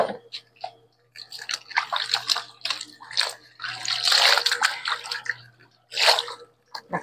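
Laundry hand-washed with plenty of tap water, heard as irregular bursts of splashing, sloshing and dripping close by, separated by short quiet gaps.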